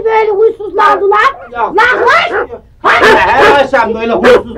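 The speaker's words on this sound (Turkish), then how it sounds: "Ne oldu bu köpekleri de birdenbire böyle huysuzlandılar?" Several restless dogs barking, yipping and whimpering in loud close bursts, with a short pause before the agitated barking resumes.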